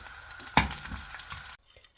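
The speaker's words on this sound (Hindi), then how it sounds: "गूंद को हमने फ्राई कर लिया है।" Edible gum (gond) frying in ghee, a soft continuous sizzle with one sharp clink of a utensil early on, then the sound cuts off to near silence.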